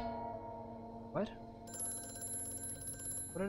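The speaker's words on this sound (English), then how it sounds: "Oh, I didn't answer the phone in time." A telephone rings in the horror game Amnesia: A Machine for Pigs, a sustained metallic bell trill that starts partway through and keeps going. Short vocal bursts and eerie ambient tones sound over it.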